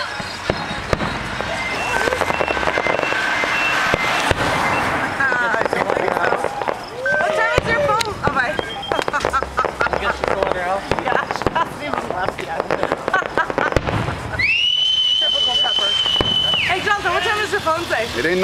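A July 4th fireworks display in Las Cruces, New Mexico, crackles and pops at a distance, with scattered bangs and a whistling shell, while people talk nearby throughout.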